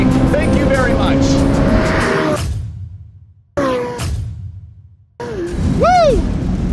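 A Corvette Z06 on a drag and roll race course drops through downshifts and roars past close by, engine note falling and cutting out twice before rising again with tire squeal, while someone shouts over it.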